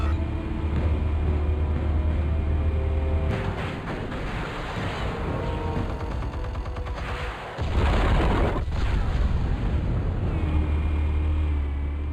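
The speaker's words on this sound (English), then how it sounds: "Explosives armed. Fire when ready." Explosives detonating in Batman: The Telltale Series, a deep rumbling boom that sustains across the clip with a brief dip midway before the low roar swells again, loud and without speech.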